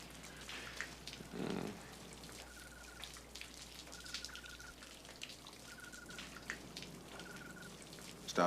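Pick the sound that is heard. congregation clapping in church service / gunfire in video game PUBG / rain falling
rain falling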